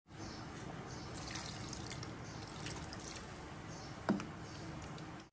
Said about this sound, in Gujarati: હવે આપણે આને આગળથી 1/2 ગ્લાસ જેટલું પાણી નાખી દઈશું